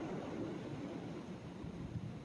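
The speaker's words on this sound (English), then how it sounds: "Like sitting and listening to the waves hit the shore." Ocean waves wash against the shore in a continuous, even surf rumble, soft and steady throughout with no voices or other distinct sounds.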